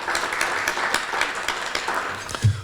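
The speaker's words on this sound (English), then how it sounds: "I'd like to give him a round of applause for making it over today" A luncheon crowd at a chamber of commerce gathering claps for a state representative, a short patter of many hands at moderate volume that swells briefly near the end.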